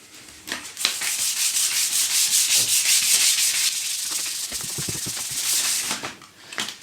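Steady, close rasp of 180-grit sandpaper rubbed back and forth along a wooden guitar neck, continuous and fairly loud, easing briefly near the end.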